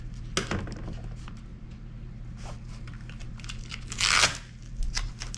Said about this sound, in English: So we get this tape off the back.